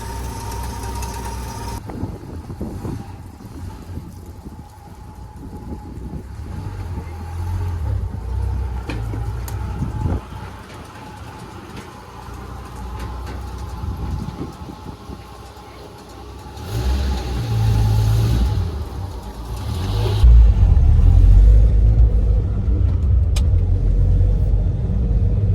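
A Pontiac Ventura's engine warms up, with a steady rumbling idle close by, then revs and pulls away as the car drives off, the low drone swelling louder toward the end with no talking over it.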